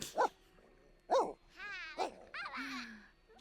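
A dog in The Sims 4 barks in short, sharp yaps, then gives wavering whines and whimpers, fairly near and at moderate volume with no talking over it.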